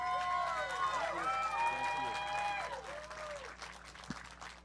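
A crowd applauds at an awards ceremony after a race during Sportsman Day at Crandon, Wisconsin, with sustained clapping and a few whistles heard from a distance over a public-address voice.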